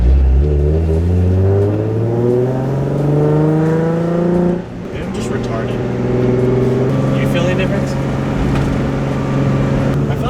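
A drift car fitted with Raceland coilovers drives along, its engine droning and rising in pitch through the gears with a brief dip midway, loud and close from inside the cabin.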